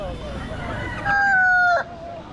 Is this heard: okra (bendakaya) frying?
no